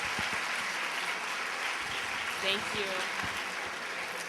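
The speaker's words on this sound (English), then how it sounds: "please let's welcome her with a big applause" An audience at a talk in Guatemala applauds to welcome a guest speaker, a soft wash of clapping running under the whole stretch while a voice briefly speaks near the middle.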